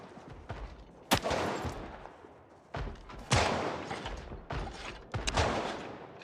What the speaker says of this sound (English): the gunshot hitting the door was making the scary sound